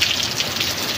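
Steady rain falls with a dense, even hiss of drops striking surfaces nearby, continuous and fairly loud with no voices.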